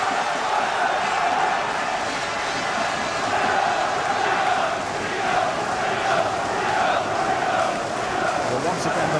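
Steady roar of a football crowd of about 8,000 at a Hereford versus Brighton match in the 1996/97 season, continuous and fairly loud, with a commentator talking over it.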